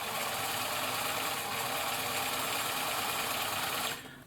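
A Bernina Record 730 sewing machine runs steadily with its drive belt freshly tensioned, a close, even mechanical whir and hum holding constant for about four seconds before cutting off.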